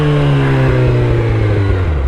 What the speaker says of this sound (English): obnoxious motorcycle